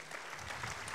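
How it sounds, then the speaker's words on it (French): Audience applause at a business round-table plenary welcomes three new panel debaters: a brief, steady patter of many hands clapping, fairly soft and continuous through the whole second. "je vous demande d'applaudir nos trois nouveaux débatteurs autour de cette table"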